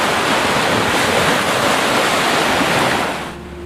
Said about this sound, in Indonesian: sampailah mereka di tepi Laut Merah yang sepanjang malam gelisah bergemetaran, meluapkan gelombang-gelombang yang saling berbenturan